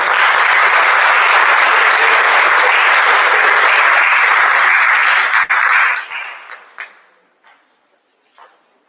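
Audience applause for students at an 8th grade awards assembly: a loud, dense round of clapping holds steady, then thins into scattered claps and fades out.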